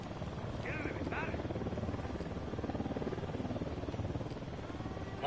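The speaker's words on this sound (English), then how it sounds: "Helicopter inbound." A helicopter in the Ghost Recon Wildlands video game drones steadily at a distance under constant rotor chop, with brief voices and effects briefly over it.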